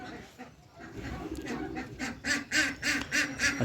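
Young chicks being released into their cage among other birds, giving a run of repeated chirping calls that grow louder and more rhythmic toward the end, close by under faint background voices.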